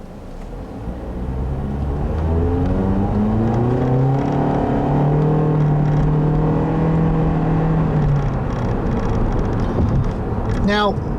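A 2015 Toyota Corolla with a CVT pulls away and accelerates, its engine drone swelling and holding a steady, rising pitch from inside the cabin, with faint talk near the end.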